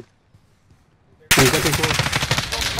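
Automatic weapon fire from the video game Call of Duty: Modern Warfare bursts in suddenly after a near-silent moment. It becomes a loud, dense, sustained rattle of rapid shots that continues to the end.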